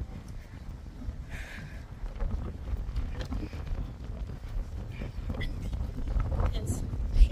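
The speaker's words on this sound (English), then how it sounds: "very windy." Wind buffets the microphone outdoors with low rumbling gusts, faint background voices and scattered bumps underneath.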